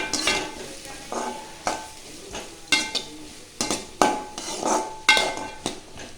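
Onions and curry leaves are sautéed in a hot pan for dosa upma, a spoon scraping and knocking against the metal in quick repeated strokes over a low sizzle, with no talk.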